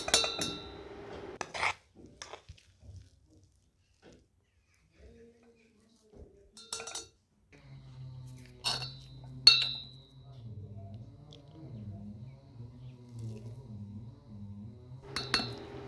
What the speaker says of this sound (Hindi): अब मैंने आलू इसी बर्तन में रखा है।